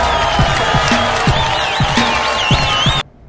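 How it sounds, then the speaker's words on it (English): Applause and cheering from a crowd, fairly loud and continuous, mixed with rhythmic beats and a warbling tone until it cuts off abruptly near the end. "And let's give a round of applause for everybody."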